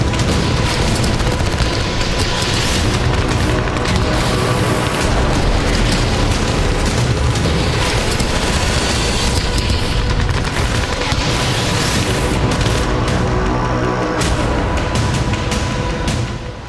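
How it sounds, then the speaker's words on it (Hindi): Powerful explosions in wartime combat boom and rumble continuously, a dense loud barrage with overlapping blasts and bursts of gunfire-like crackle throughout. "इतने शक्तिशाली धमाके होंगे"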